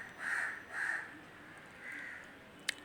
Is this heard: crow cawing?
yes